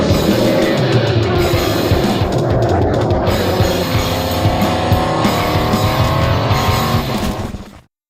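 An American race car weighing 1150 kilograms roars loudly and continuously at close range, with squealing tires over the engine, before the sound cuts off abruptly at the end.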